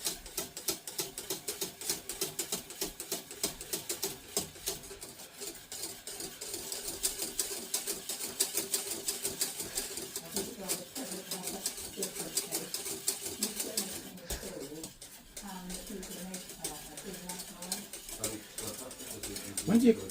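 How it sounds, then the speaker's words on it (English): A whisk beats custard filling for Portuguese custard tarts in a pan on the stove. The rapid, continuous ticking and scraping runs for twenty seconds under steady talking. "But we've got to keep stirring"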